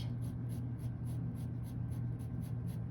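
Pencil coloring on paper with a rainbow pencil, making steady, rhythmic scratchy strokes repeated about twice a second, close and continuous with no talking.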